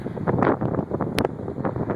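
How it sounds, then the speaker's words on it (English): Gusty wind buffets the microphone with rumbling, uneven bursts of low noise. "I know it's probably pretty windy and probably kind of hard to hear me."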